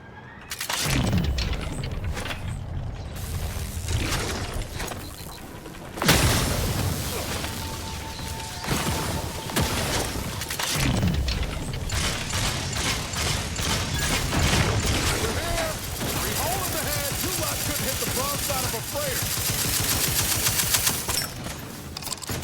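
Grenade explosions and gunfire from the video game Outer Worlds 2, with loud booms and sharp bursts of automatic fire packed tightly together, mechanical clatter between them and someone talking over the combat.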